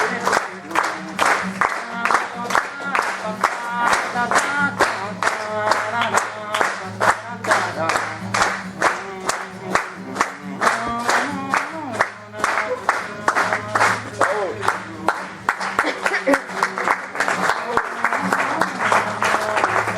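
At a cabaret evening sketch show, an audience claps in a sharp, regular rhythm for twenty seconds, the beat sustained and loud alongside music and voices.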